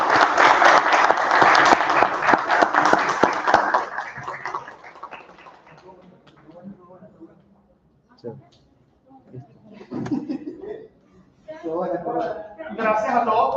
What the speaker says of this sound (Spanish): le damos un aplauso a nuestra ponente